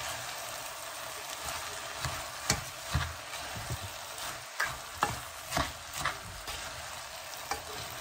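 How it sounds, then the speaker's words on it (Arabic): A spoon stirs rice with vegetables in a pot, scraping and sloshing in soft, irregular strokes over a faint background sizzle, close and fairly quiet with no talk. "قلبي كله على بعضه."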